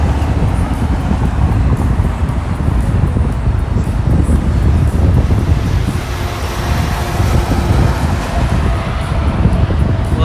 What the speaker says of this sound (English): It's so windy I can see my shirt blowing dramatically in the wind, which means that you guys are probably hearing that in the form of audio.